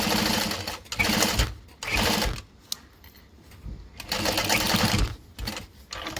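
A home sewing machine running a long basting stitch, fast close mechanical whirring in several bursts separated by short pauses, with no voices.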